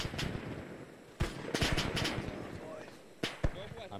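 Gunfire from Japanese soldiers in an ARMA 3 World War II battle at Henderson Field, several sharp shots and short bursts cracking over background noise while people talk.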